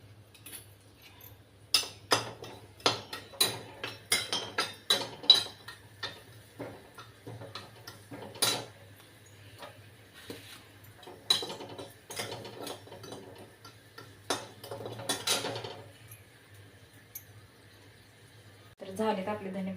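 Coriander seeds dry-roasting in a pan for a chutney masala, heard as rapid irregular clicks and rattles of seeds stirred against metal, bursts clustering then thinning, with a low steady hum beneath.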